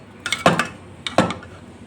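A utensil knocking against a pot while stirring sambar, two quick bursts of close metallic clinks and scrapes separated by a short pause.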